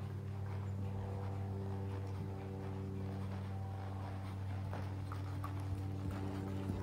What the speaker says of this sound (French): Donc le départ au trot était bien fluide par rapport à la diagonalisation.